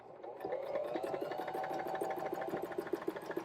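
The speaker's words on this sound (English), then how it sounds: "Let's choose medium. straight stitch," A small JOANN mini sewing machine hums steadily at a medium straight stitch. The whirring is fairly quiet and continuous, with a light rhythmic ticking.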